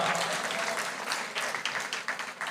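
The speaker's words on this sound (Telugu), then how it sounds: "చప్పట్లు కొట్టి దేవుని మహిమపరచు గట్టిగా" A church congregation claps steadily and continuously, a dense wash of applause that swells and fades slightly.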